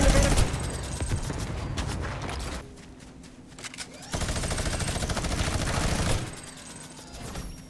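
Rapid bursts of automatic gunfire from a Fortnite Chapter 2 Remix match, loud and sustained, dropping briefly to a quieter stretch before a second heavy volley and trailing off.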